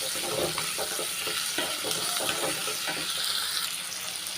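Shallots frying in oil with curry leaves and green chili, with rock salt being added, give a bright, steady sizzle and crackle close by, with light stirring scrapes and faint water-like hiss throughout.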